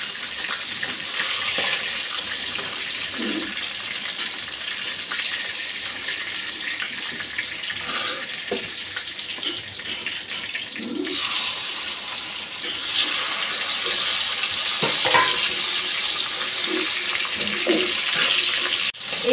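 Fish frying in a pan of oil before being lifted out, a steady hissing sizzle that grows louder partway through, with occasional clinks and no talk.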